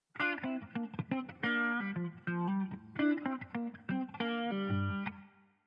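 Funky electric guitar riff played with heavy effects, distortion and chorus, choppy chords and sliding notes, loud and upfront with no talking.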